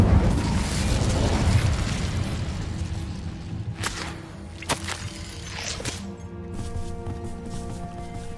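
Incendio fire spell cast in the game Hogwarts Legacy: a loud roaring whoosh of flame at the start, fading over a few seconds, followed by sharp cracking bursts and lingering tonal game effects, with no talk.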